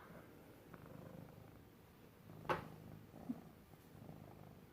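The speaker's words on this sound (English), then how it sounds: "All the purrs." A cat purrs softly and steadily, a faint, continuous low rumble close by in a quiet room, with one brief louder sound partway through.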